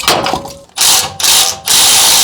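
Spring compressors are cranked onto a coil spring from a 3rd gen Toyota Tundra during a suspension install, producing three loud bursts of ratcheting power-tool noise separated by brief pauses, up close.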